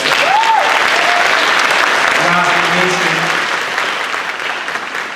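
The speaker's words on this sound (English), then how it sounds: "Can we give them a big round of applause?" Broad applause fills a high school graduation ceremony hall, thick and even, with a few whistles and a voice briefly speaking over the clapping before it thins slightly.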